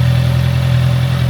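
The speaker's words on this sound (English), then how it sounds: "I think it sounds really good. The note is really good, and it's pretty quiet when you're idling," A Honda CB650R motorcycle with its stock exhaust idles close by, a smooth, even low engine hum with a steady tone, heard alone.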